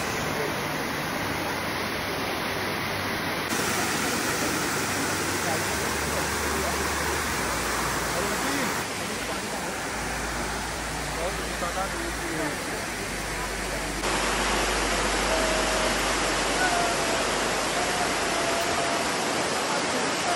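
A waterfall near Cherrapunji in Meghalaya roars with a steady, broad rush of falling water, loud and close. The wash runs unbroken throughout, and its tone shifts slightly partway through.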